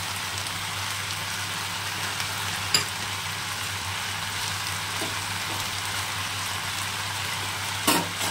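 Onion and three green chillies fry in oil with kundri, a steady close sizzle like light rain, with a couple of sharp clinks of a spatula against the pan.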